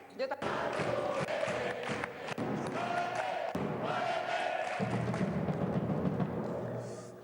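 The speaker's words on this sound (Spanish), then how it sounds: "Pedazo de ovación, chaval." Studio audience on a TV show breaking into a loud ovation of clapping and cheering that starts abruptly and carries on, with a voice talking over it.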